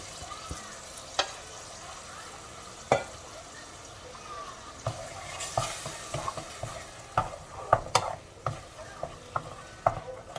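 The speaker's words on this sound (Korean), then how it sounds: "이제 준비된 시금치 퓨리 넣고 잘 섞으면 됩니다." Spinach puree is stirred into a tofu curry in a pan over low heat. A spoon scrapes and clicks against the pan in irregular strokes over a soft sizzle, close by and growing busier toward the end.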